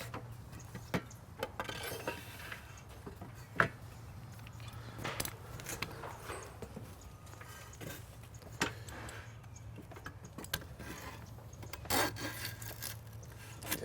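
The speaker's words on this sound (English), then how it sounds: "So here, this draw knife will probably work better for you." A drawknife shaves long strips from an Osage orange selfbow stave in a series of quiet, close, intermittent rasping scrapes over a low steady hum, with no talking.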